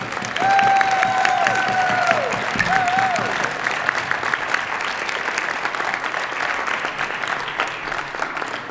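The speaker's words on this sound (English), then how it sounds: "How about a big round of applause for all of our students in the third grade?" An audience at a third-grade school spelling bee breaks into loud, continuous applause with a few cheers and whistles early on, the clapping staying full throughout.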